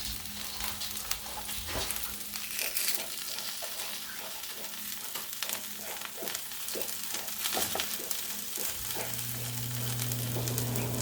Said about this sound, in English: allow these to continue to cook until the bottoms look nice and crispy and browned